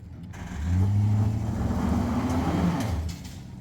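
Vehicle stuck in a ditch revving its engine hard as the tires spin, a sustained, rising and falling drone lasting about two and a half seconds, fairly close.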